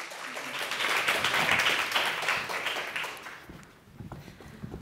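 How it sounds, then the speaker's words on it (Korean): Audience applause welcoming a student presenting team called 웃음 보따리, whose topic is traditional Korean laughter. Dense clapping swells over the first three seconds, then thins to scattered claps. "여러분, 웃음 보따리 큰 박수로 맞아주시기 바랍니다."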